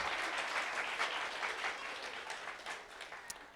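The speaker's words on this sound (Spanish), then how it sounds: "Un aplauso para Sarita, porfa." Audience applause at a church children's event, a steady wash of many hands clapping at moderate level, thinning slightly toward the end with a brief louder clap near the close.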